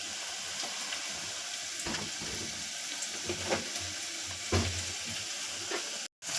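Chopped onion and tomato for misal fry in a pan with a quiet, continuous sizzle, broken by occasional spoon scrapes and stirring knocks.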